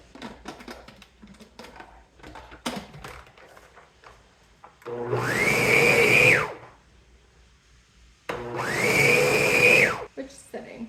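A Ninja food processor pulsing to grind meat for breakfast sausage, two loud whirring bursts of about a second and a half each, separated by quieter moments with faint handling noises and some talk.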